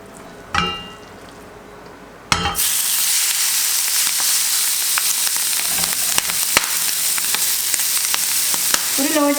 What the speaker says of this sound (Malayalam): അതിലേക്ക് ഞാൻ നമ്മൾ നേരത്തെ മാരിനേറ്റ് ചെയ്ത് വെച്ചിട്ടുണ്ടായിരുന്ന കല്ലുമ്മക്കായ് ഇട്ട് കൊടുക്കട്ടെ